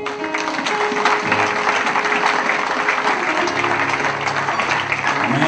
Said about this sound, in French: Et je voudrais que vous puissiez acclamer pour vous-même.